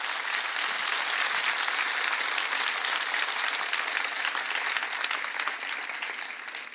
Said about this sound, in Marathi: आता जोरात टाळ्या वाजवा की स्वराज्य परभणीत लवकर यायलाच पाहिजे